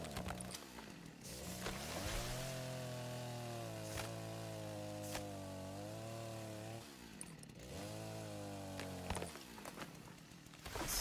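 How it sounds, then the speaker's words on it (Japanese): A chainsaw in the Rust video game cutting through wood, its engine droning at a strong steady pitch, dipping briefly and then revving back up in two sustained cutting passes with a few sharp knocks. "チェーンソーを振り回してる女がいるぞっつって獣もあんまり来ないわ。"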